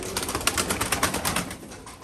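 Soft, repeated pigeon cooing in a steady rhythm, fairly close, with a busy broadband background of rustling and other birds.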